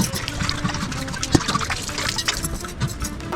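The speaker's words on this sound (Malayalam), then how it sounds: "വെള്ളം ഒഴിച്ച് നോക്കാം." Water is poured out in a steady, close splashing trickle with a few louder gushes, continuing without pause and with no speech over it.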